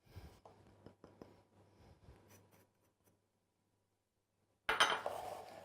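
Sugar and a little water go into a saucepan of halved strawberries for compote: soft clinks and scrapes of utensils, a silent pause, then a louder pouring rush near the end.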